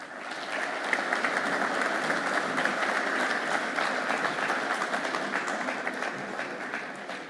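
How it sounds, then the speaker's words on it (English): Sustained loud applause from a conference crowd, steady and dense clapping throughout with no pauses. "Give them a huge big round of applause."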